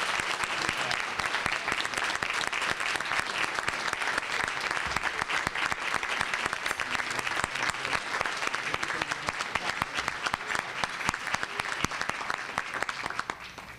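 Sustained, dense applause from a large audience at a conference luncheon, steady and evenly loud throughout with no pauses.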